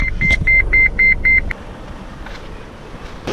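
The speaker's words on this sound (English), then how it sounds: "Beeping again. It just doesn't want to go into 4-low." A truck's warning beeper sounds six quick, evenly spaced tones over engine rumble as it fails to shift into four-wheel-drive low range, then stops, leaving a quieter idle.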